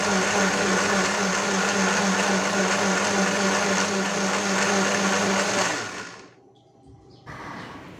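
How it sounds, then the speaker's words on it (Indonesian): A blender grinds chopped shallots and garlic in a loud, steady whir for several seconds, then cuts off abruptly, leaving a brief quiet gap before a faint hum returns. "saya mau halusin dulu bawang-bawangan yang udah saya potong-potong kecil tadi pakai blender seperti ini"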